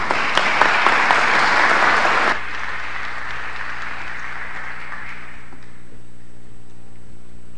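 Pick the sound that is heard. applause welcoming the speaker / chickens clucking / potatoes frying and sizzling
applause welcoming the speaker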